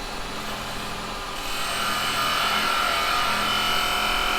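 A carbide chisel cutting wood on a lathe: a continuous rough, rushing hiss over a low motor hum, growing slightly louder partway through and steady after that, close, with no voice.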